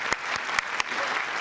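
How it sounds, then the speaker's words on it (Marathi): Loud, sustained applause from a studio audience at a Marathi comedy show, steady clapping throughout with a few sharper claps standing out. "खूप जोरदार टाळ्या"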